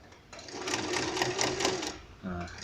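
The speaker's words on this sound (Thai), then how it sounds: "เอาละครับเย็บไปเรื่อยๆครับ" A sewing machine stitches a small handmade wallet with a rapid, steady mechanical whir of about two seconds. It stops, a brief clunk follows, and someone speaks softly in the background.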